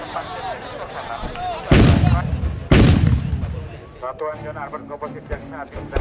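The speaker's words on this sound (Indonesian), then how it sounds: "Selanjutnya terdengar dentuman tembakan, dan itu adalah dari serangan udara langsung atau SUL." Two heavy booms of gunfire from a direct air strike demonstration at an Indonesian Army combat exercise in Baturaja, each a sudden loud blast with a rumbling tail, while someone narrates over a loudspeaker throughout.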